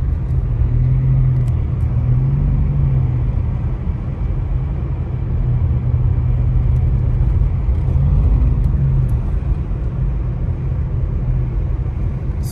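Car climbing a mountain stretch of Highway 18 between Big Bear and Lake Arrowhead late at night, a constant loud engine and road rumble with tire drone, the engine note rising and falling slightly.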